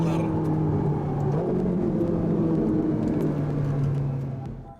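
A tuned Porsche 997 911 GT2 engine racing, a loud close rumbling roar with shifting tones as it accelerates through gears, fading slightly at the end.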